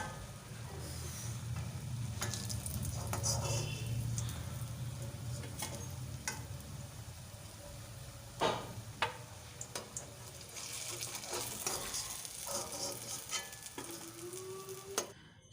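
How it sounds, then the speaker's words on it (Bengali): Raw banana fritters fry in oil with a continuous sizzle and bubbling, joined midway by sharp clinks and scrapes of a utensil against the pan. Nobody speaks. "সব বড়াগুলো আমার পুরোপুরি ভাজা হয়ে গেছে।"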